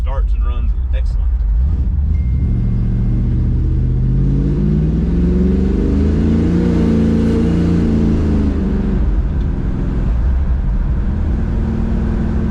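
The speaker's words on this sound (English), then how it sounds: "That FiTech fuel injection and Mr. Jones just fires up and goes." A car engine fitted with FiTech fuel injection fires up and rises into a strong rev that swells and falls back, loud and close, with a rumbling idle around it.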